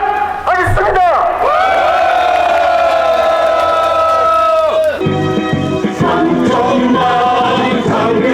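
A crowd at a farmers' rally cheers, whoops and shouts loudly together, with sustained rising calls and voices throughout.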